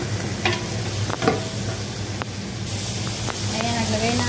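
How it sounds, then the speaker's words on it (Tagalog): Tomato paste going into a pan of frying biryani, giving a steady sizzle and stirring scrape throughout, with a few sharper utensil clinks near the start and end. "naglagay na ako ng tomato paste"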